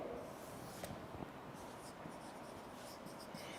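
A teacher writes a word on a classroom board during an English lesson, producing continuous scratchy chalk or marker strokes, close and fairly quiet, with no talking.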